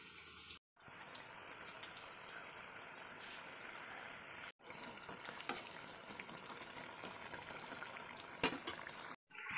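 Pitha rice cakes fry in hot oil with a steady, dense sizzle that runs continuously, broken by a few brief pauses, moderately quiet and without talk.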